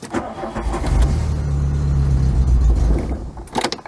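An 8-valve MK2 Scirocco cranks and fires, its engine catching into a loud, rough, steady idle with a deep rumble, then stumbling and cutting out near the end, with the choke needing adjustment.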